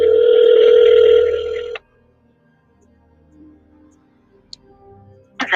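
A telephone call to a number produces a loud steady tone for nearly two seconds that cuts off abruptly, followed by near silence with faint clicks and then another tone beginning.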